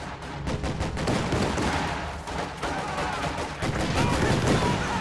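Rapid, crackling gunfire from a real-time strategy video game battle, bursts of shots repeating steadily over several seconds at a moderate distance.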